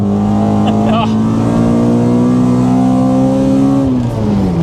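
A Honda Civic EJ9 with a swapped B18 engine, heard from inside the car, revs hard and pulls up through the range with a loud, rising intake and exhaust howl before the pitch drops off near the end.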